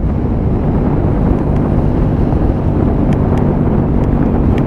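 Strong wind roars and buffets across the microphone while flags and foxtails flap on a Royal Alloy scooter, a loud, continuous, rumbling rush with no break.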